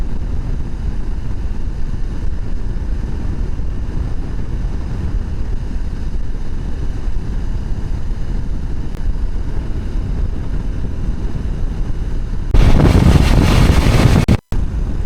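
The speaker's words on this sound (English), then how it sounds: "it is a little windy today" Steady low rumbling wind buffets the microphone throughout, with a sharper burst of gusting noise near the end before it cuts briefly.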